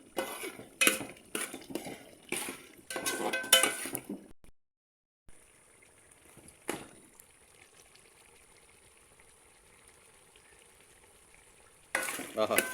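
Chicken curry simmering in a pan as garam masala is added, bursts of scraping stirring and clinking against the pan over a soft sizzle, then a quiet stretch before the stirring returns.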